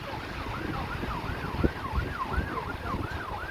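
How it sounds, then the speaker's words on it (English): A wailing emergency siren rises and falls repeatedly at a distance on Blackpool's North Promenade on a rainy day, over low road rumble and passing traffic. "I can hear more sirens now as well"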